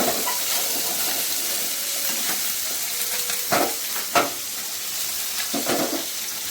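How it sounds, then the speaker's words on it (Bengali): Morola fish frying in oil, a soft continuous sizzle and hiss at moderate distance, broken by a few brief stirring or turning clicks. "মাছটাকে ঝুলিয়ে দেবো দুটো সাইড, যাতে ভালোভাবে ভাজা হয়ে যায়"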